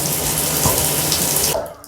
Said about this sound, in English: I'm going to stick the tub stopper in now and let it go for 5 minutes.